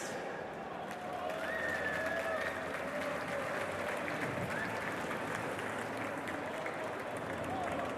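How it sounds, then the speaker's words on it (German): A crowd applauds on the gamescom 2016 stage as a guest artist is called up for a live Diablo III drawing session, a sustained wash of clapping and cheering with a voice speaking over it. "Rufen wir ihn auf die Bühne mit einem riesigen Applaus"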